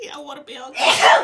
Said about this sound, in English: Sorry, she sneezed.